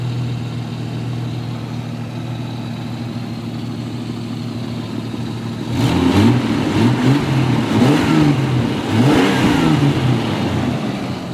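A car engine idles steadily and then revs several times in quick bursts, loud and close, with no voices over it.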